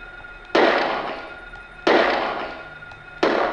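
Three loud gunshots from the Silent Hill video game, evenly spaced about 1.3 seconds apart, each a sharp burst with a decaying tail over a faint steady game hum.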